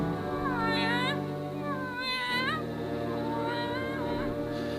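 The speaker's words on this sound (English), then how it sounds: "Yes, it's a cat." A black tomcat in a 1955 radio drama meows three times, long drawn-out wavering cries close by, the last one softer.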